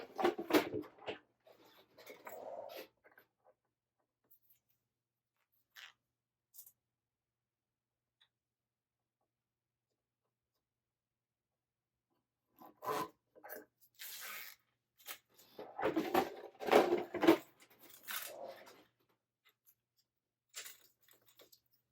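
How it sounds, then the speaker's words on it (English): Zipper pull being fitted onto zipper tape: scattered small metallic clicks and ticks in short clusters, separated by long quiet gaps, close and faint. "Before I sew my zipper onto my panels, I will install my pull onto my zipper tape."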